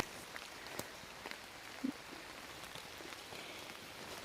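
Light rain patters steadily and faintly on surfaces, with occasional louder drips standing out against the soft background hiss.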